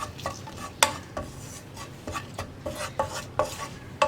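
Chilli powder and garam masala being stirred into potatoes in a hot pan for potato fry, a run of distinct spoon scrapes and metallic knocks in an uneven rhythm, close and clear, with a faint sizzle beneath and no talking.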